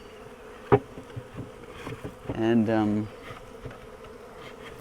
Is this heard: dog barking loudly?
no